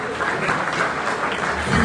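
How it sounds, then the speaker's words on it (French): A concert audience at the Rotana Hotel applauds in a steady, loud wash of clapping, with a voice speaking over it near the end. "Sous vos applaudissements, mesdames et messieurs."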